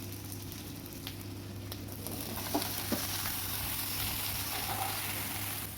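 Vegetables added to a hot pan with green chillies, a steady bright frying sizzle that swells slightly as they go in, close and continuous with faint stirring clicks.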